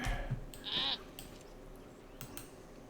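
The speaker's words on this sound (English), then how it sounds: "There we go, there's a goat." A goat in Lord of the Rings Online gives one short, clear bleat at close range over quiet ambient game sound.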